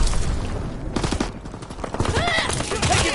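Heavy gunfire in the Call of Duty WW2 video game, with dense bursts of shots and explosions rolling on without a break, loud and close, while faint radio-style chatter sits beneath the battle noise.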